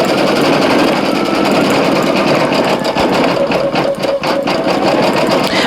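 A Brother single-needle embroidery machine stitching a design onto a towel runs with a loud, steady mechanical whir and rapid rhythmic needle chatter throughout, with no voices.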